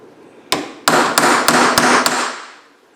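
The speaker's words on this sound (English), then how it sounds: "And I usually try to put the chisel right there." A hammer strikes a chisel to split small pieces of scrap metal, six sharp ringing blows, the first alone and the rest in a steady rhythm, close and loud.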